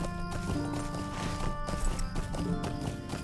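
Horse hooves clip-clopping at a steady walking rhythm while riding in the Lord of the Rings Online video game, close and clear over a bed of game music and ambience.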